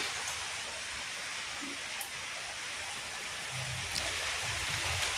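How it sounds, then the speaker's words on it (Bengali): Rain falls steadily outside, a broad even hiss of drops with faint low household sounds underneath and no voices. "তো এই দেখো বৃষ্টি পড়ছে"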